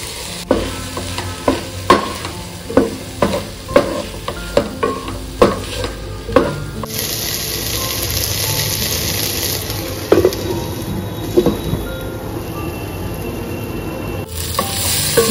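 Prawns fry in spiced oil in a single pot, a spatula scraping and stirring in regular sharp strokes over a steady sizzle that later runs on alone, loud and close.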